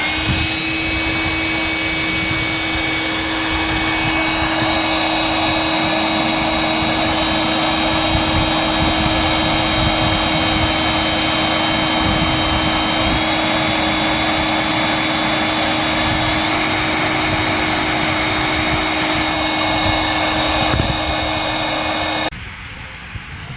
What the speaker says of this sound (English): use the vacuum so we don't get fiberglass dust all over the back of the boat